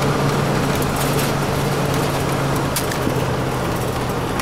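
A Ford E350 Chinook Concourse Class C motorhome on the move, giving a steady, close engine hum and broadband road rumble that stays even throughout, with no talking.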